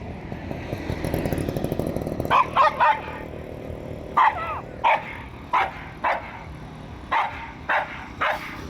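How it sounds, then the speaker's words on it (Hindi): Several dogs bark back and forth in short, sharp bursts, loud and close, with a steady rhythm of yaps after a noisy opening. "और ये अभी एक दूसरे को भौंक रहे थे"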